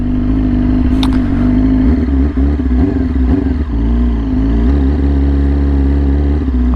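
A Yamaha R6 sport motorcycle rides slowly into a parking lot, its engine humming steadily close to the microphone with small throttle changes and a brief high-pitched squeak early on.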